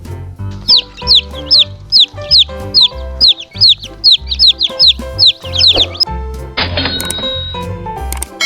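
A toy chicken clucks in a rapid repeating series of short squawky calls, then a burst of clattering mechanical noise follows near the end.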